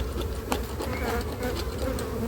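Honeybees crowd a packed beehive body, their dense, steady buzzing continuous and close, with no voices over it.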